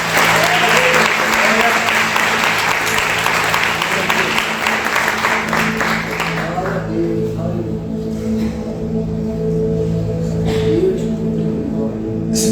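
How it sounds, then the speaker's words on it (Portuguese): A church youth congregation applauds loudly in a hall, clapping thick for several seconds before thinning out under a sustained musical drone and some voices. "Você pode aplaudir Jesus por essa palavra?"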